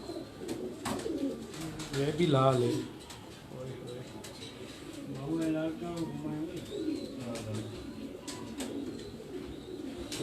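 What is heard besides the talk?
pigeons cooing on a rooftop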